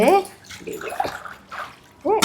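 Dishes being rinsed under running water at a home sink, with splashing and sloshing in short bursts between quieter moments, while a child and an adult talk throughout.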